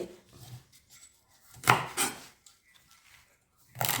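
Herbs chopped by hand on a board during outdoor foraging and cooking, a few distinct knife strikes spaced irregularly, close and fairly quiet, with long pauses between them.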